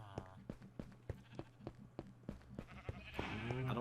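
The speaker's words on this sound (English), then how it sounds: "Let me go shear some sheep for some wool" In the video game Minecraft, a sheep is sheared for wool with a series of soft, regular clicks and steps, followed by a short bleat near the end.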